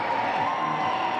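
Crowd noise from fans at a women's college basketball game between BGSU and Davis & Elkins, a steady, loud indoor roar of voices and cheering with no clear breaks.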